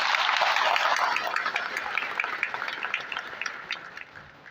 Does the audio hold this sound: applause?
yes